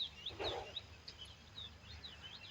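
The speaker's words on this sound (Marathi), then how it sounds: "पक्ष्यांचा किलबिलाट आवाज येतोय." Faint bird chirps repeat intermittently in the distance against quiet outdoor background noise.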